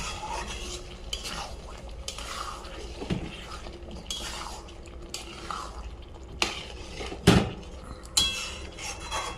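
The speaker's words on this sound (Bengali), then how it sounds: "এবার আলু দিয়ে দেব। ভালো করে কষবো আলুটা দিয়ে।" Potatoes are stirred and sautéed in a pan for a cauliflower curry. A spatula scrapes and clanks against the metal pan at irregular intervals over a soft, constant sizzle, with a few sharper knocks near the end.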